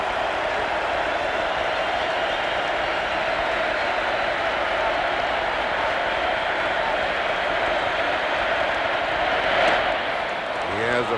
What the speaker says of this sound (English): they applauded long and loud last night for this fella, and they're doing it again